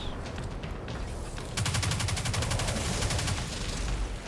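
Rapid automatic gunfire in a Destiny Nightfall Strike mission, opening with scattered shots and then breaking into a loud, sustained burst of fast rhythmic fire that continues to the end.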